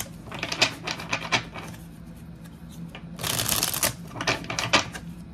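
Tarot cards are shuffled by hand, producing rapid riffling flutters in several bursts, with a longer, louder riffle midway through, close and clear with no voices.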